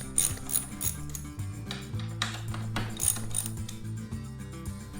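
A socket ratchet clicks in quick repeated bursts while loosening a 10 mm bolt on a Husqvarna 701 Enduro LR motorcycle, close and clear with faint metallic rattles and no talk.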